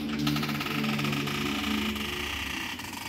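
A Teka DDI 90 downdraft cooker hood runs with its plastic protective film still stuck on, giving a steady loud whirring drone with a buzzing, rattling texture throughout.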